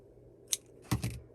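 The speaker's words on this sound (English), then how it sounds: "then you can go ahead and cut your yarn" Scissors snip through yarn after lucet cord work, a light high click followed by two quick, fuller cuts close by in an otherwise quiet room.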